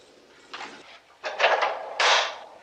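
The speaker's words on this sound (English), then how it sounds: "A steel door or a hatch. The kind they have on large ships or a freighter." A heavy steel door or freighter-style ship hatch closes on a played-back recording: three muffled clanking bursts, each louder than the last, with no voices.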